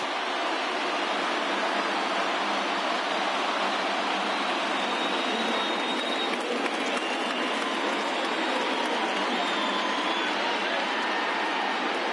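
A large hometown crowd fills the stadium on opening day in MLB The Show 20, Phillies against Marlins, a dense, constant roar of many voices without any distinct cheers or breaks.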